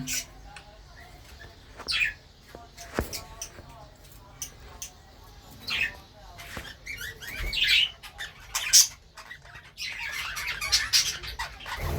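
Farm-bred budgerigars kept for sale squawk and chirp in scattered sharp bursts, close by and growing busier toward the end, with a voice talking between the calls.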